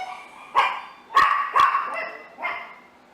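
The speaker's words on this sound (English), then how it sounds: "They're chihuahuas off and running." Several chihuahuas bark in short sharp bursts, four distinct yaps spaced across a few seconds, close and fairly loud with a faint background between barks.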